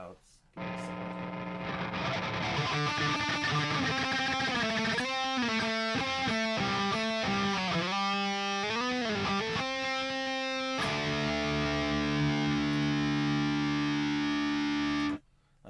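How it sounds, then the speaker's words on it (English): Electric guitar through an Unleashed distortion amp tone, playing a steady run of sustained, heavily distorted notes and chords that ends in a long ringing chord, loud and continuous with faint hum. "what I like to use is this Unleashed tone, which by itself is really, really awesome"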